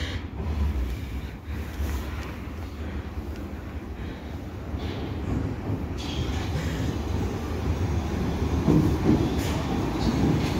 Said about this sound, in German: Dieser Zug fährt weiter nach Nollendorfplatz.